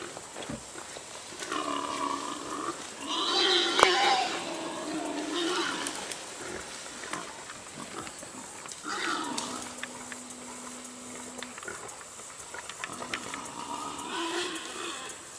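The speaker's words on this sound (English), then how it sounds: "These daggum pigs sounded like monsters in them woods." Wild pigs in Georgia woods give deep, guttural grunts and drawn-out squeals in several loud bursts with pauses between them, carrying at moderate distance.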